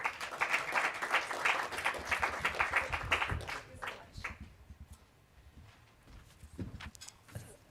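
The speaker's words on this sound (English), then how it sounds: "Let's give her a big round of applause." An audience at a business event on reproductive justice gives a round of applause, dense, steady clapping for about four seconds that then thins out into scattered claps and faint room noise.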